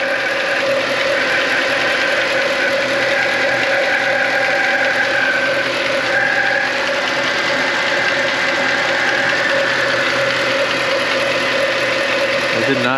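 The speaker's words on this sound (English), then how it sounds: "That sounded like it was coming right from the pulley." Steady, loud engine drone from a Mercedes-AMG, with a fault noise from the pulley: a constant mechanical hum and whine with faint knocking throughout, close and unbroken.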